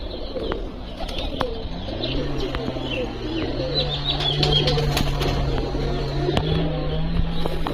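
Restless pigeons in a loft coo in a low, sustained drone, broken by sharp bursts of wing flapping and a few chirps, all close and busy throughout.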